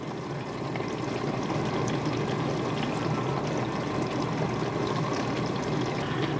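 A Maytag dishwasher fills with water, giving a steady rushing hiss of inflowing water that holds at an even level from start to finish, close by and without talk.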